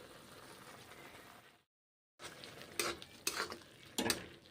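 Masoor lentils, cabbage and turmeric stirred in a pot, with a low scraping bed and a few sharp utensil scrapes and clinks after a brief silent gap.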